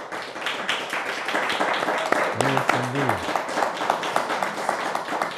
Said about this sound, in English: Could we hear a little applause to let you know that they're there?